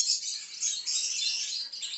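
Lovebirds at a bird farm chirping in a continuous, busy high-pitched twittering chorus, fairly close and steady for two seconds, with no talk.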